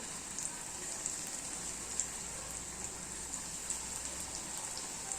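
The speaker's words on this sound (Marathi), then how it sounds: "छान असे पकोडे मी तळून घेत आहे" Pakoras sizzle steadily in hot oil, a soft, even crackle with scattered tiny pops, quiet and close, with no voices.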